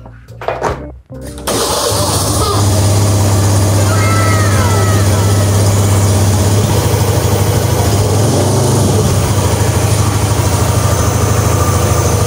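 A motorcycle engine turns over and catches after a fuel-pressure fix, settling into a steady, close idle that drones on without a break for about ten seconds.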